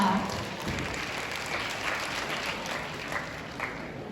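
Audience applause at a university open house event, a steady wash of clapping from a room of people that holds at an even level for several seconds, with some voices mixed in.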